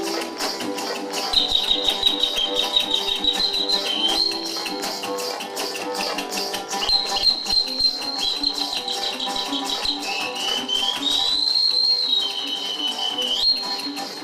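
Birds chirp and whistle in high, thin, repeated calls throughout, layered over steady rhythmic tapping and a busy instrumental background.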